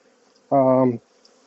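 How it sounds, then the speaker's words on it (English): A short burst of honey bee buzzing, a dense steady drone lasting about half a second, close and fairly loud, then quiet, as bees are shaken for a varroa mite check. "shook those bees for the varroa check"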